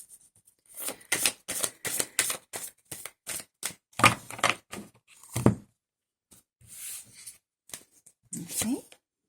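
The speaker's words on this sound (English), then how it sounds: "give the cards a quick shuffle" A deck of tarot cards is shuffled in quick riffling bursts, a rapid run of crisp flutters followed by a few slower, scattered shuffles.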